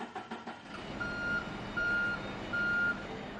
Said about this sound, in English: Trucks are supposed to be coming in here from Mexico.